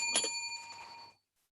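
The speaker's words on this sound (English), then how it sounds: "When 7 3/4 minutes have passed, he will ring the bell twice like this." A timekeeper's bell at a university English speech contest, rung twice in quick succession with bright metallic dings that ring out briefly and decay to silence.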